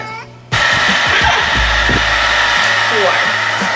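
After a brief moment of near quiet, a blow dryer diffusing curly hair switches on abruptly and roars steadily at close range, with a faint voice occasionally audible beneath the airflow.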